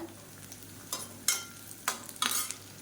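Onions and two dried red chillies sautéing in oil for a quick cauliflower lunch dish, a faint low sizzle punctuated by four or five distinct, close spatula-scraping strokes.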